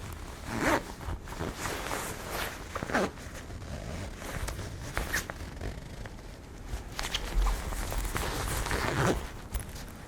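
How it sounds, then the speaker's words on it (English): A jacket zipper rasps in several short pulls against a soft, rustling background, fairly close and moderately quiet. "I'm just gonna help you get this zipper started"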